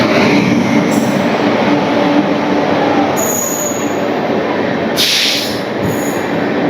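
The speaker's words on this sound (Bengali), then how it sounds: "সেই ট্রেনটা এখন প্রবেশ করছে" A long passenger express train rolls into a station at close range, its wheels squealing in high sustained tones over the steady rumble of the railcars, with no talk.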